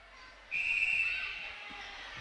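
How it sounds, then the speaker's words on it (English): A referee's whistle blows once, loud and sustained for under two seconds during a netball game in the Sunshine Netball Series, with faint arena noise behind it. "There's a whistle on the play."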